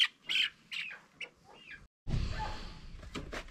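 Hens and young roosters in a backyard flock cluck and squawk in short bursts, followed by a rush of rustling and flapping close by.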